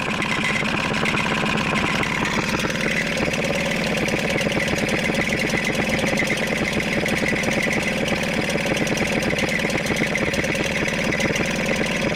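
A Hangkai 6hp two-stroke outboard motor runs continuously at a steady idle. The loud, buzzy engine drone stays close and constant throughout, with no voices over it.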